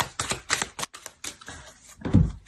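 Tarot cards are handled and laid out, making a rapid run of crisp, close slaps and flicks in an uneven rhythm. A soft thud near the end suggests a card or the deck being set down.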